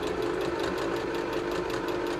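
A sewing machine stitches a pants cuff closed on a children's pixie pants pattern, a steady close mechanical hum with fast rhythmic needle clatter running continuously and alone.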